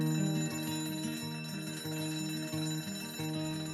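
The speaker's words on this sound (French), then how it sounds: "être réveillé par la sonnerie d'un réveil qui démarre brusquement" A chiming alarm clock rings continuously in a rapid repeating melody of bell-like tones, fairly quiet and steady with no voices.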